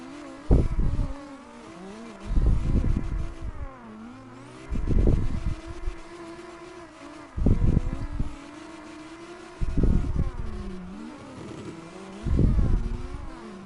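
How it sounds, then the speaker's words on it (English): Mazda RX-7 engine in CarX Drift Racing revving in repeated bursts roughly every two to three seconds, each with loud low popping pulses like backfires, over a steady engine drone, with no talking. "I heard a backfire from the RX-7."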